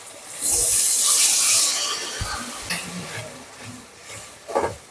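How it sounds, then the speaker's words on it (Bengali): Ground-spice water poured into a hot pan of fish-head curry, a loud rushing hiss that swells quickly, holds for about a second and a half, then fades into softer bubbling with a few light stirring knocks. "এই বাটা মশলার জলটা দিয়ে দিচ্ছি"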